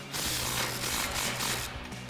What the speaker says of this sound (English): grab our nut and our 18mm socket and tighten it down